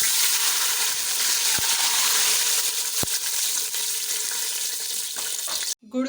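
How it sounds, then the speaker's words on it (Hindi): A steady stream of water pours and splashes into a cooking pot of sizzled cumin for sweet jaggery rice, bright and continuous, with a couple of small clinks before it stops abruptly. "अब हम इसमें पानी ऐड करेंगे।"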